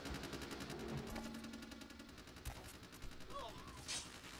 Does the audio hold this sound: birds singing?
no